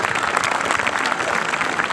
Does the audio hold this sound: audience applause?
yes